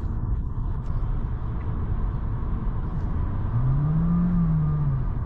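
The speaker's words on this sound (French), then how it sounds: "Même si j'accélère un peu plus fort qu'avant, le moteur à essence restait assez silencieux." A Honda Jazz petrol engine accelerating gently, a steady low hum and whir inside the car with a faint rising engine tone near the end, quiet and without talk.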